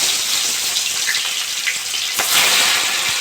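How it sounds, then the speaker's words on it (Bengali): Cabbage frying in hot mustard oil in a wok, a steady bright sizzle that hisses without a break, with a couple of short louder spits near the end. "বাঁধাকপিগুলো ভেজে দেবো।"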